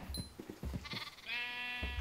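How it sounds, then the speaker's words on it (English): Sheep bleat in the Minecraft video game, a few short wavering bleats with bright harmonic tone rising over low thumping game sounds, close and fairly loud. "Are you breeding with a sheep?"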